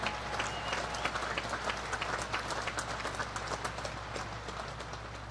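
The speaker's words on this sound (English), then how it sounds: "How about a round of applause for the Navy Band?" Faint, distant applause from a large outdoor audience at a Naval Academy commissioning ceremony, honoring the Navy Band, a steady patter of clapping over a low background hum with no talk.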